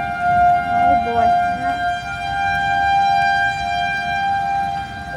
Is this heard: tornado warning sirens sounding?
yes